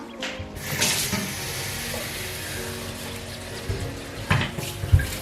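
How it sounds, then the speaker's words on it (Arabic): Water pours into a cooking pot of meat with prunes, a steady close splashing rush lasting several seconds, followed by a few clunks and knocks of the pot. "غنزيد عليها واحد شويه ديال الماء"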